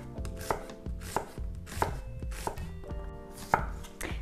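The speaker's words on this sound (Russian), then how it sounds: "Лучок репчатый можно просто полукольцами порезать" Knife chopping onion into half rings on a cutting board, a steady series of close, crisp chops at an uneven rhythm, with no voices.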